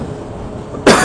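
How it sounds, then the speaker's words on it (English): A single short, sharp cough bursts out at the very end of a second of quiet traffic-like background rumble. "it's making me cough."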